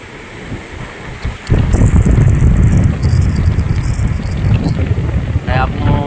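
Strong ocean surf pounds a beach in Lubayat, Quezon, a surfing spot, with a loud, continuous rush of breaking waves and wind buffeting the microphone during light drizzle.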